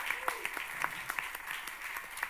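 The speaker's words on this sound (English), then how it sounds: "let's give a very big round of applause to Isabel." Faint, sparse applause from an audience at a European cancer mission fair in Warsaw, scattered individual claps with no talking over them.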